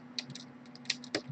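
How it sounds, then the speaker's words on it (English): Keys on a computer keyboard are tapped in short irregular bursts, close and fairly quiet. A steady low electrical hum sits underneath, and no one speaks. "we're just going to do some typing here"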